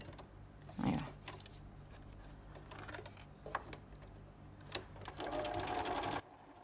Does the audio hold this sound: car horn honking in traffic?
no